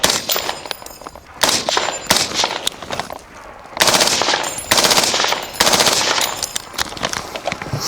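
A FightLight MCR belt-fed rifle in its forced-reset-trigger version fires outdoors in several loud, rapid bursts of gunfire with metallic clanks, separated by short pauses.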